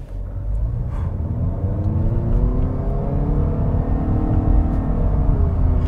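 2021 Honda Accord Hybrid EX-L accelerating in sport mode, a steady rising engine and motor whir with a low rumble building smoothly from inside the cabin, loud and continuous with no speech.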